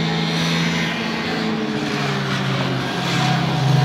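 An old motorcycle with stale fuel and dirty carburetors revs hard as it passes on a test ride, a steady droning engine note held at moderate loudness throughout, swelling slightly toward the end.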